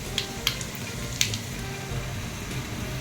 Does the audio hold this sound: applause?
no